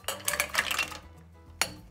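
Pieces of 250 grams of dark chocolate go into a pot holding half a litre of milk, making a run of close clattering and clinking for about a second, then a quieter pause and one sharp metallic knock.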